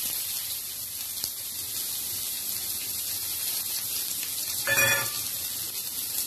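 A steady, bright sizzle of cumin seeds and finely chopped onion frying in hot oil in a pan, continuous and fairly close. A brief electronic tone and a short scrape cut in near the end.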